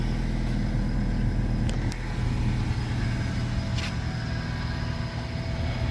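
A 1999 Honda Civic Coupe being driven, its steady engine and road rumble continuous and close throughout, with a couple of brief higher clicks or squeaks along the way.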